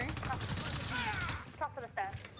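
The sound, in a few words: gunfire in the video game Warzone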